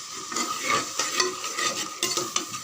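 Biryani masala being sautéed and stirred in a pan, with a soft continuous sizzle under repeated scraping strokes of a spoon against the pan, close up and without talk.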